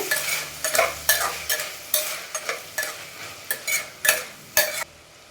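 Sprouted moth beans with turmeric and salt are stirred in a hot pan. A spoon scrapes in regular close strokes over a soft frying sizzle, loud and without speech.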